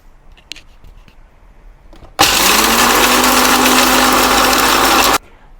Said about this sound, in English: I want to speed things up by using the electric blender.